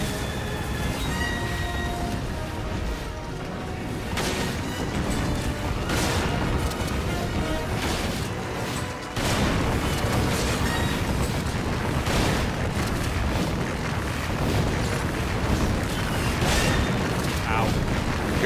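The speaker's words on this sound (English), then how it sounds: "Have a flashbang." A flashbang grenade going off in the action game Resident Evil 5, a booming blast buried in dense, continuous game noise of shooting and rumble, with players talking throughout.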